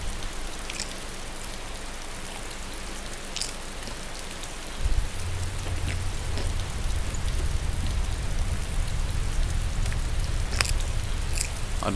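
Rain falling in the survival video game DayZ, a constant hiss of drops on surfaces with occasional brighter ticks, joined halfway through by a low rumbling layer underneath; no talking.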